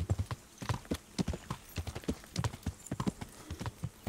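Horse hooves clopping while riding in the Kingdom Come Deliverance game, a brisk, even clip-clop rhythm heard clearly with no talk over it.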